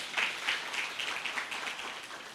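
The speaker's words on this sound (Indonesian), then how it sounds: "Bapak Nyoman Budiado, tepuk tangan buat beliau Bapak Ibu" Audience applause at a gathering in Bali, a moderately faint wash of clapping with a few sharper claps standing out, steady throughout.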